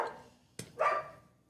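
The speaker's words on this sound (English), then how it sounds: "Sorry for the dog barking. That dog's outside." A dog barks outside, one sharp bark followed by a short muffled yelp or second bark, at moderate distance and alone without speech.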